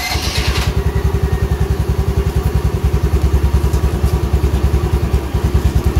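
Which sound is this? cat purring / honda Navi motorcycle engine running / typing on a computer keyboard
honda Navi motorcycle engine running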